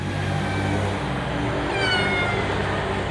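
In an abandoned house, a cat gives one drawn-out meow partway through, heard over a loud, constant rumbling noise bed that nearly buries it.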